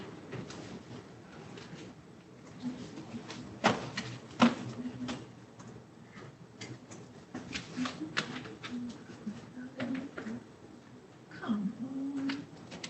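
Birds call intermittently behind a room with scattered clicks and knocks, short chirps and coos coming and going over quiet background sounds.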